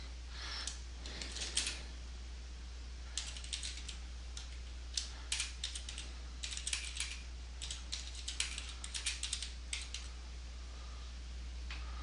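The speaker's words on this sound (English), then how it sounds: "I'm going to start typing in his name, Jeff Smith" A computer keyboard clatters with bursts of quick key clicks as someone types a name into a new message, the irregular tapping continuing over a steady low hum.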